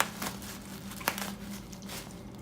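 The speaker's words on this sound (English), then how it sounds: "You like chewing that bubble wrap, don't you?" A small terrier chews bubble wrap in a garage, giving a steady stream of crinkling and crackling with one sharp pop, close and continuous, with no talk over it.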